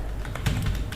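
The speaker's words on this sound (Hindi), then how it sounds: "यहाँ पर हम टाइप करते हैं" Quick burst of keystrokes as a telnet command is typed on a computer keyboard, several crisp clicks close up over about a second with no voice.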